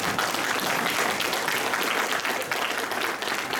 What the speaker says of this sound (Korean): 이러면 또 딴 데로 박수가 나오는데